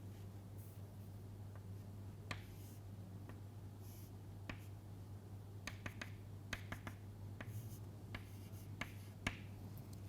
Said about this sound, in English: Let me just draw it more clearly.